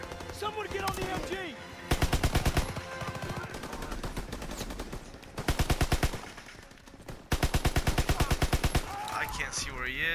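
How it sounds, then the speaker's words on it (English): Call of Duty WWII gameplay with long bursts of rapid machine gun fire, loud and close, in three runs amid battle noise, while voices shout over the shooting. "Open fire! Someone get on the MG!"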